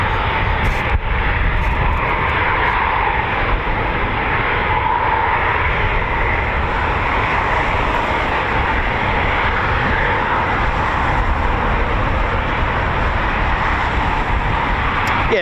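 A Eurofighter Typhoon FGR4 jet at RAF Coningsby roars loudly and steadily throughout, a broad, sustained engine rumble with no speech over it.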